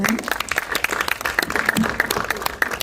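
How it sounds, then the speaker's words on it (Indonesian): An audience at a film press conference breaks into steady, dense applause that fills the short clip, with a few voices mixed in beneath the clapping. "boleh kita berikan tepuk tangan."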